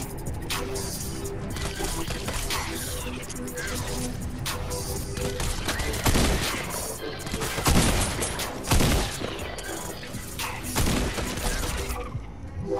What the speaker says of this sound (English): Let me shoot him in the head. I got a suppressed pistol.